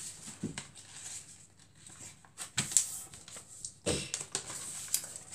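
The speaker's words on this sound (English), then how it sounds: "fold the rest of that over to the middle corner there like that" Sheets of paper being creased and folded into a paper airplane: scattered crisp rustles and sharp crinkles in short bursts, close and fairly quiet, with gaps of near silence between folds.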